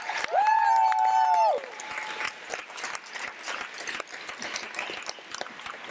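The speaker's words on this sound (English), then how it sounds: "Can we have a round of applause for Bennett, please?" A long tone sounds first, then broad, steady clapping from a school spelling bee audience fills the rest, moderately loud with some background murmur.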